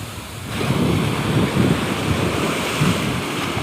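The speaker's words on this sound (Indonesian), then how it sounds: "Ombaknya kawan, ombak." Ocean waves wash onto a beach where people are fishing, a continuous roar of surf with strong wind buffeting the microphone.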